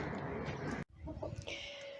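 Young chicks, a batch of thirty, peep and cheep close by with a bright high twitter, a brief cut partway through, and a low background rumble throughout.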